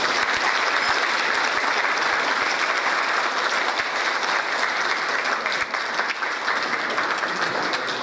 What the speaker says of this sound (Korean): 큰 박수 드리면서 질의응답 시간 갖겠습니다